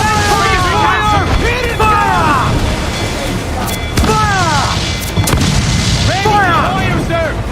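Ship cannons firing in the Assassin's Creed IV video game, a few heavy booms and sharp reports spaced through a loud naval battle, under shouted crew orders and voices.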